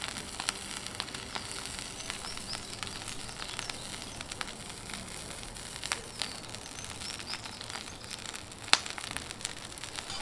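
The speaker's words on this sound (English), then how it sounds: "I've got Tenderstem Broccoli, which I'm going to add to the pan once this really hot" Tenderstem broccoli sizzling in a hot pan set over braai coals outdoors, a soft continuous frying hiss scattered with small crackles and pops, fairly quiet and steady throughout.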